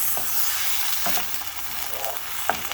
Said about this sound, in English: And then I'm just going to stir this